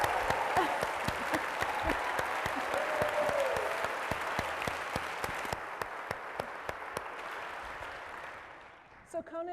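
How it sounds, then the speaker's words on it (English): A large audience applauds at an arts event, dense sustained clapping that thins toward the end, with a voice speaking briefly as it fades. "So how about another round of applause for him?"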